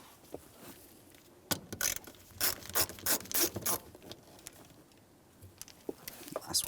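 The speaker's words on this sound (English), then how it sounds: "we'll continue on with a Phillips head screwdriver to remove all of the hardware" A Phillips head screwdriver backs out mounting screws from the rear control arm area of a 1992-1996 Toyota Camry, making a close series of quick ratcheting clicks and grinding scrapes that arrive in bursts.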